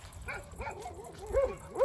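American Staffordshire terriers react to a street dog with short yips, whimpers and low barks in quick succession, fairly faint and close.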